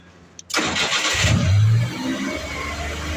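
A car engine cranks and catches when started by an installed Chinese remote starter, a brief starter whirr followed by a loud rev that settles into a steady close idle.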